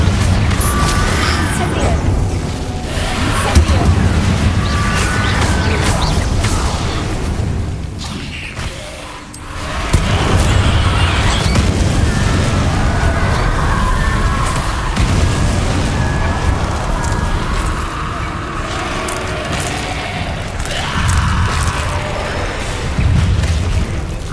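Repeated fiery spell blasts from Confringo and Incendio in Hogwarts Legacy boom and burst in loud succession over a dense combat soundscape, with a brief lull partway through.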